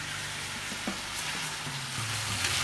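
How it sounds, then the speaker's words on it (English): Steady, soft sizzling of olive oil in a hot pan, a continuous low hiss with faint crackles and a few light clinks, no voices. "The pan is starting to sizzle, and that's perfect."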